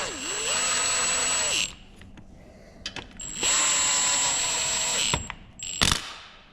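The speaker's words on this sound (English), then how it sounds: "And we'll just continue tightening." Bolts are tightened on a Nissan 350Z/370Z differential during a Nismo GT Pro rebuild, heard as two close, separate bursts of whirring, ratcheting tool noise, each about a second and a half long, with brief clicks between them.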